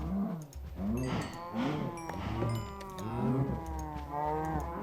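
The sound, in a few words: cows mooing in Minecraft video game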